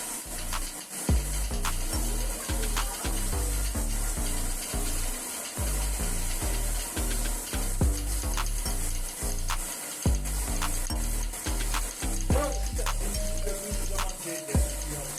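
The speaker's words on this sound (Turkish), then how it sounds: "Değirmen, değirmen taşının üzerindeki ahşap tokmağın titremesiyle mısırlar sırayla değirmen taşına dökülüyor" A primitive stone mill grinds corn while a wooden clapper on the millstone rattles steadily in a fast, regular rhythm, under a constant rushing wash of water and mechanism noise.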